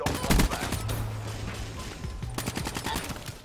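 Rapid bursts of video game gunfire from Black Ops 3 crackle across the whole stretch, loudest near the start and again toward the end, with dense overlapping shots and no talk.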